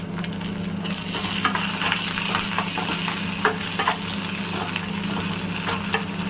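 Curry leaves hit a pan of sautéed onions and fry with a loud, steady sizzle, close and continuous, with occasional light stirring clicks and no talking.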